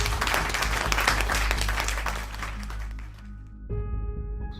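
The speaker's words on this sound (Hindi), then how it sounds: "राशिद, आयशा, तालियां हो जाएं." Studio audience applause on a Pakistani cooking competition show, dense clapping over a low musical bed for about three seconds before it fades out and music with sustained tones takes over.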